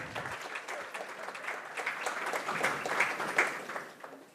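A crowd at an awards ceremony applauds steadily for several seconds, a dense patter of many hands clapping at moderate volume, heard from a short distance.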